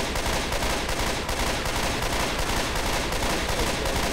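Dense, sustained gunfire in the co-op zombie shooter Left 4 Dead, a continuous loud barrage of rapid shots with no pauses, heard alone without talk.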